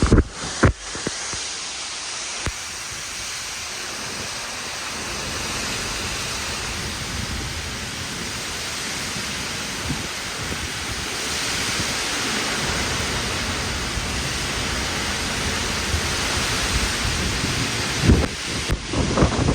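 A 100 mph windstorm with heavy rain roars steadily and loudly throughout, with wind buffeting the microphone and a few sharp knocks near the start and end; no one speaks.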